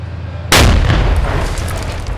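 A single loud, sharp tank cannon blast erupts after a short quiet moment in urban combat in Jobar, Syria, followed by a long rumbling, crackling decay.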